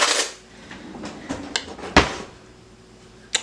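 A spoon clinks against a bowl of oatmeal in a home kitchen, several sharp separate taps and scrapes at uneven intervals, close by, with soft handling noises between them.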